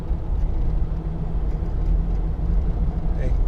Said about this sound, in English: And you get a bit of tyre noise. It's got these cross-contact tyres on, but it's not too intrusive.